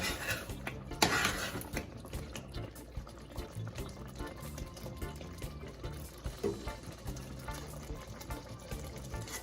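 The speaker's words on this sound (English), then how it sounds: "I'm gonna mix this in here." Salt and curry powder are stirred into a vegan eggplant curry in a pot, a continuous wet, rhythmic churning with spoon scrapes and knocks against the pot, close and fairly quiet, with no talking.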